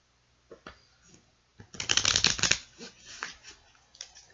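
Several bursts of riffling tarot card shuffles, a soft tap then a loud, dense flurry of cards, followed by lighter shuffling and taps, close up with no talking.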